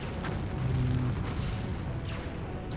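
Cannon fire booms in an Empire Earth battle, a dense, rumbling low barrage of overlapping blasts with a few sharper cracks, continuous and loud throughout.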